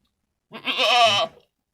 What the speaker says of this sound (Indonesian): ternyata ada seekor kambing Jawa Randu jantan ya